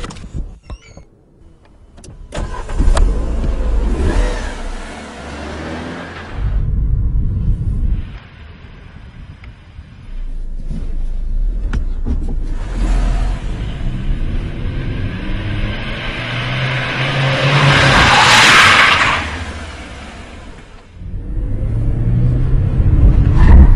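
A car edging into a tight parking space barely longer than itself, done in a single move. A steady engine rumble swells and eases as it creeps back and forth, with no talking.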